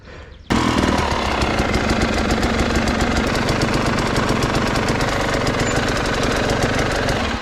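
An enduro motorcycle engine runs loud and close, a steady rapid mechanical pulse that starts abruptly and holds for several seconds with no speech.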